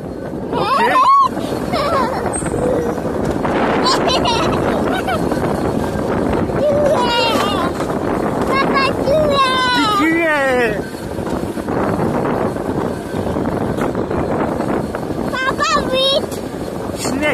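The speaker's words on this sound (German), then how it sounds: "Ja, der Wind, gell?" Wind roars steadily past the microphone on the Nocky Flitzer alpine coaster at Turracher Höhe, a constant broadband rush throughout, with people talking and exclaiming over it.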